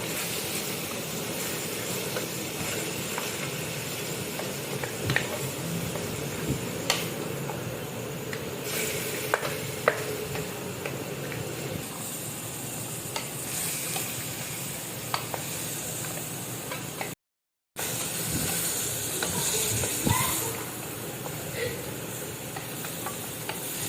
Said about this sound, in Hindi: अदरक लहसुन डाल करके थोड़ा इसकी भुनाई कर लेंगे।